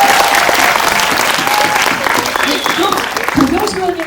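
A cinema audience at a Q&A screening of the film The Moon breaks into loud, sustained applause that eases slightly toward the end, with a voice speaking over the clapping.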